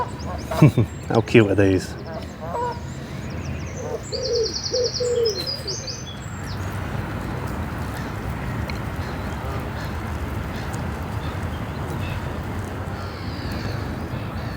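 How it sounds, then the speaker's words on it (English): Greylag geese at the lake in Sandal Park honk and call in a few loud, nasal bursts over the first several seconds while a person speaks nearby, followed by a long stretch of steady, even outdoor background noise. "there's a lot of geese here today. A lot of grey lag."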